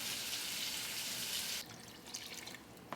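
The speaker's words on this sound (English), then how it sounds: "So let me get my water." A kitchen tap runs to fill a container with water for sugar syrup, a steady, close rush that cuts off about halfway, leaving faint drips and splashes afterward.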